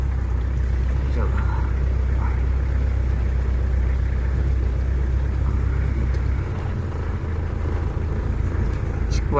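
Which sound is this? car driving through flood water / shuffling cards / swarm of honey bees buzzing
car driving through flood water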